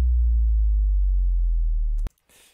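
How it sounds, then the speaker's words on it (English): Heavy bass drop in an electronic music mix, a deep sustained booming low tone holding steady for about two seconds before stopping dead, followed by a faint short noisy burst. "I love bass drops so much."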